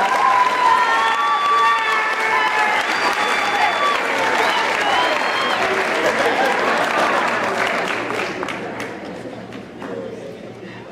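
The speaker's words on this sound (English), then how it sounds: "Let's give another round of applause." Loud applause and cheering from a crowd at an 8th grade promotion ceremony, with scattered shouts and chatter over it, continuing steadily before slowly thinning out toward the end.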